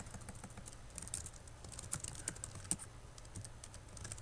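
Fingers type a name on a computer keyboard, a quiet, quick patter of key clicks that runs unbroken for a few seconds with no talk over it.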